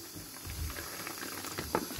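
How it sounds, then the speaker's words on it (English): Faint, quiet crackling and fizzing of tiny molecular hydrogen bubbles popping in water, with soft irregular pops close by. "Can you hear that crackling pop? That is molecular hydrogen."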